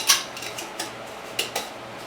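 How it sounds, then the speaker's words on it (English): A spoon stirring dried seasonings such as oregano in a dish for pupusas with curtido: several light, sharp clinks and scrapes of metal against the container, close and isolated. "I'm going to take my spoon and just stir it up a little bit."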